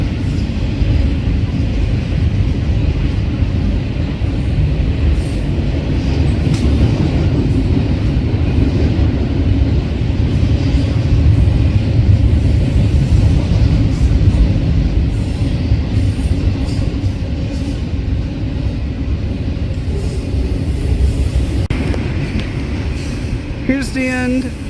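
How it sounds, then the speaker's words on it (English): A Canadian National freight train rolls past at Fullerton with a loud continuous rumble and clatter of wagons on the rails that holds steady throughout, and a brief screech near the end. "I didn't think this freight would come through before my train home"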